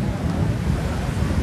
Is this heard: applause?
no